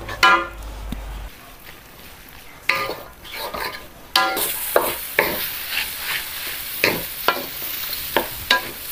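Chili and onions frying in a pan for mie goreng, with loud sizzling bursts and the scrape and clatter of stirring, coming in uneven pulses, close up.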